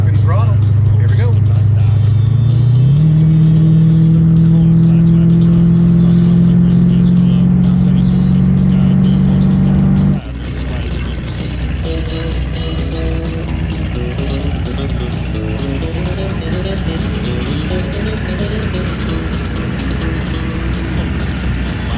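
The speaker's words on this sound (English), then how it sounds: "Fixed the car, inside the cabin, wide open throttle, here we go." Hot Rod Lincoln engine at wide open throttle heard from inside the cabin, a loud sustained roar whose pitch climbs and holds for about ten seconds before easing into a lower rumbling drone.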